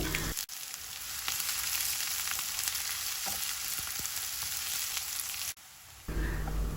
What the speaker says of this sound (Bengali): এখন পেঁয়াজগুলো আমি কিছুক্ষণ ভেজে নিব